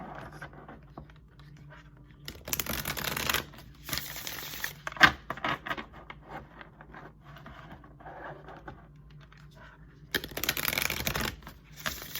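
Tarot-style cards shuffled for a collective card reading, heard in two bursts of brisk riffling and rustling separated by quieter handling, close and moderately loud with no talk.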